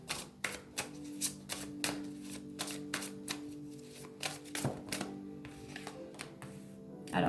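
Tarot cards shuffled by hand, a run of crisp riffling snaps and slaps in an irregular rhythm, close and fairly loud, with no talk over it.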